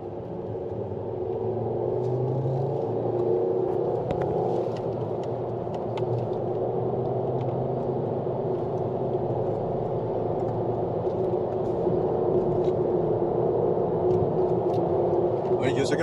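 Volvo car driving along with its engine running, a steady low rumble and road noise throughout, fairly loud inside the cabin with no talk over it.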